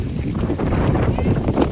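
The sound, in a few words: wind blowing by a large lake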